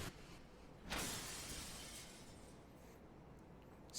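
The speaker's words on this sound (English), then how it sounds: "Smashes through the window and off into the night." A glass window shatters in the horror video game DeathMark with a sudden crashing burst. Debris rings out and slowly fades over a faint, steady background hiss.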